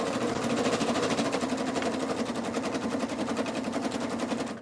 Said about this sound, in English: This is the first time I've sewn tubes on this machine.